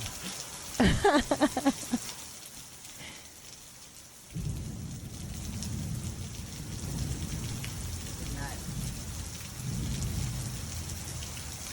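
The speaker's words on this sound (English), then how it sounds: "All that thunder and lightning." Heavy thunderstorm with steady rain drumming on surfaces, opened by a sharp close crack of thunder, then a continuous loud downpour with a softer rumble partway through.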